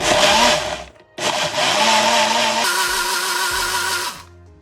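An electric mixer grinder blends an apple smoothie with a loud, steady motor whir, briefly stopping and restarting, shifting pitch partway through, then winding down at the end.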